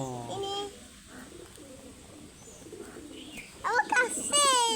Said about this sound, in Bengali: এই যে এই কবুতরটা খাতে এসেছে